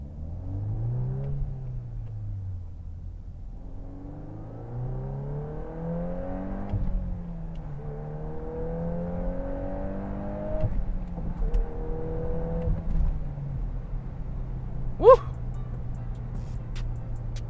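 Engine of a manual VW Mk8 Golf R heard from inside the cabin, revs rising and dropping through a series of shifts with steady road rumble underneath, then a brief sharp squeal near the end; no talking.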